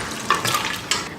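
Pre-cooked mutton and its cooking water are tipped into a simmering curry in a pan, giving a brief close splash and sizzle with a couple of stirring scrapes.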